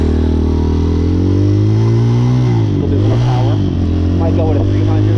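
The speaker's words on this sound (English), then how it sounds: "And you see I like to rev it up high." A motorcycle engine revs high close by, its steady droning pitch dipping and climbing again as the throttle is twisted, loud and continuous.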